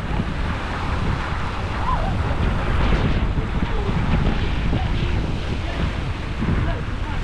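Wind buffets the microphone on an Indian Ocean beach in Mombasa, with surf washing in underneath as a steady, rumbling backdrop and faint voices in the distance.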